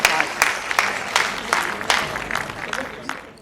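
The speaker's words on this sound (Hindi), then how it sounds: "जोरदार तालियां बजाकर अजय प्रधान को आमंत्रित करें।" Audience at a hasya kavita poetry event clapping to welcome poet Ajay Pradhan onto the stage, a steady burst of applause from a crowd with scattered sharp claps, a voice audible over it.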